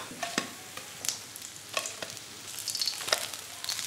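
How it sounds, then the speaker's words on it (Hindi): Bread slices fry in oil in a pan for shahi tukray lasagna, with a faint, steady sizzle and scattered sharp crackles and pops, heard close and quiet with no speech. "तो ब्रेड के स्लाइस सारे हमने फ्राई कर लिए हैं।"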